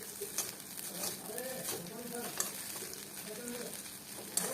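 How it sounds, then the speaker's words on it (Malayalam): Green chili sauce being stirred into noodles in a hot pan, a steady sizzle and fry under soft scraping and tossing strokes, close by, with faint speech in the background. "നമ്മളുടെ ഗ്രീൻ ചില്ലി സോസ് നമ്മളൊന്ന് യോജിപ്പിച്ച് കൊടുക്കുകയാണ് കേട്ടോ."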